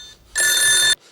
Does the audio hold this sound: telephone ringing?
yes